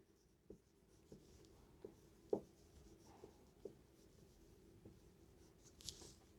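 A single pen or chalk writes a math formula by hand in a quiet room, with steady scratchy strokes and a few sharper taps spaced over several seconds; nobody speaks.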